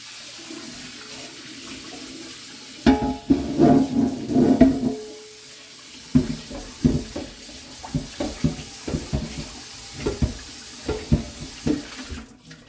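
Running tap water splashing over a dish being rinsed in a kitchen sink, a steady close stream broken by irregular sloshes and spatters as the dish moves under the flow.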